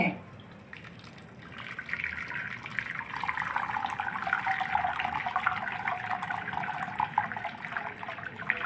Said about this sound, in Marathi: असं घालून पाणी घालणे त्यात व्यवस्थित हलवून घेणे व चाळणीतून गाळून घेणे